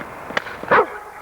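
An old dog barks on command in a short trick, giving a couple of brief close yips and then one louder bark-like howl.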